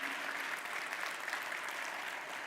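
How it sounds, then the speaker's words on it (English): A conference plenary audience applauds with dense, steady clapping from a large crowd, moderately loud and continuous throughout. "Let's give them a huge round of applause,"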